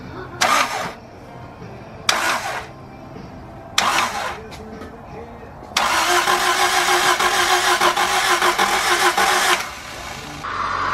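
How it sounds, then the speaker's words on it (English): A Honda Integra DB1 with a B20 VTEC conversion cranks in three short bursts and then fires up, settling into a steady, loud idle close by. "all we did was hold the throttle down and car fired right up"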